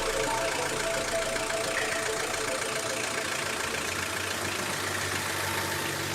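Outboard boat engine running on biodiesel, moored at Victoria in the Seychelles, idles with a steady continuous drone that holds at even loudness throughout, a low rumble shifting slightly partway through.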